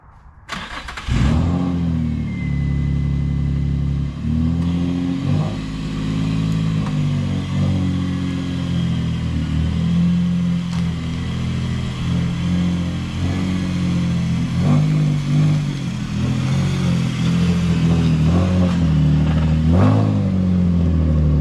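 A Nissan Z drift car starts up and drives, its engine droning loudly and steadily throughout, with shifting harmonic tones as revs rise and fall on the road.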